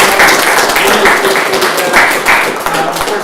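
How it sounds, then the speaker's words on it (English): An audience at an evening snowpack speaker series gives a loud round of applause, close and continuous, with some talking mixed into the clapping. "One more big round of applause for both Keith and Spark."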